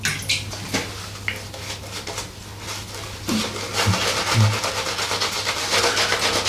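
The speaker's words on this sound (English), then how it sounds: "Just going to stick more water in this for the final pass." Water runs from a tap and splashes into a bowl of Bundubeard Tamboti shaving soap lather, a steady rushing flow close by that grows louder toward the end, with a low mains hum underneath.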